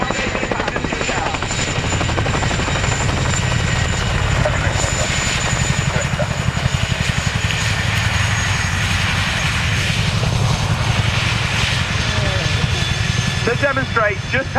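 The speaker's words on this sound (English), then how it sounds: "They'll use the two blades and two rotors of the Chinook to bring the aircraft to a stop" Chinook twin-rotor helicopter at an airshow, its two rotors and engines giving a loud, continuous, throbbing roar with heavy low thump and turbine whine throughout, close by.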